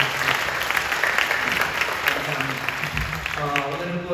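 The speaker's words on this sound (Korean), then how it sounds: "박수 한번 해주시기 바랍니다" A church congregation applauds in a steady, moderately loud wash of claps that carries through and tapers as a voice begins near the end.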